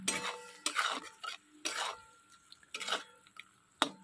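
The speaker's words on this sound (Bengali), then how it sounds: "চলো এবার ভালো করে মশলাটা কষাতে হবে।" Kashmiri chilli powder spice masala stirred and sautéed in a pan for kachkola kofta curry, with repeated scraping bursts of a spoon against the pan, fairly quiet, with short gaps between strokes.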